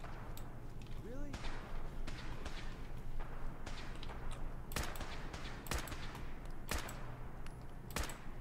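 Gunfire in the video game Fallout 4 cracks out as repeated sharp shots at irregular intervals over a dense game soundscape, while a person talks over the action.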